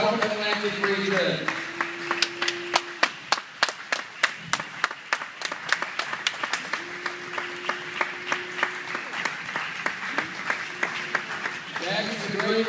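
Applause at a karate nationals gathering, a crowd clapping with sharp, distinct individual claps in a loose rhythm, steady throughout, with brief voices and a faint tone heard intermittently.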